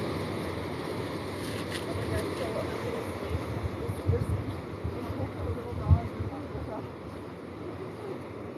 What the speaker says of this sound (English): literally could stand here for hours listening to the water